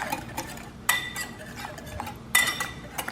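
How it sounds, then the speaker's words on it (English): Ranch dressing ingredients with apple cider vinegar are stirred in a bowl, with soft scraping and a couple of sharp utensil clinks against the dish, close and fairly quiet. "Mix well."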